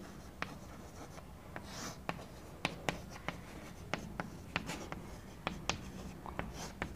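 Chalk or marker writing on a board during a Hindi-medium maths lesson on integration, a string of sharp taps and short scratchy strokes in an irregular rhythm, close and fairly quiet, with no talk over it.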